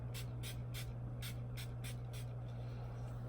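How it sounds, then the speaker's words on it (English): Hangover RX 3-in-1 primer and setting spray misted in a row of about eight short, crisp spritzes at a steady rhythm, close and clear over a low hum, ending with a sudden bump. "I'm going to use the Hangover RX 3-in-1 replenishing primer and setting spray"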